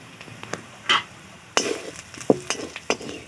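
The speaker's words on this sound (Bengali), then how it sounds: "ভালো করে মশলাটা কষিয়ে নেব।" Chilli, cumin and coriander powder masala stirred and frying in a pan, with soft scraping stirs and clinks of a utensil in short bursts over a faint low sizzle, close by.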